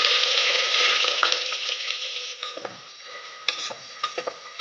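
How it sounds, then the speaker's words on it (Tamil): Sliced onions and green chillies sauté in hot oil in a pressure cooker with a bright, steady sizzle. It fades a little partway through, with occasional spoon stirs and light clicks against the pot. "நீல வாக்கில் அரைஞ்ச வெங்காயத்தை போட்டு வதக்கிக்கலாம்."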